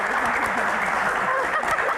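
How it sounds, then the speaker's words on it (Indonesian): An audience at an Indonesian talk-show Q&A claps for arriving guests, a dense, loud wash of clapping with voices mingled underneath. "Tepuk tangan dong"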